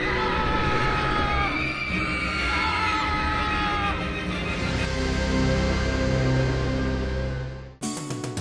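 Riders scream and cheer aboard the Revenge of the Mummy roller coaster, a loud, dense wall of overlapping yells sustained for several seconds before cutting off abruptly near the end.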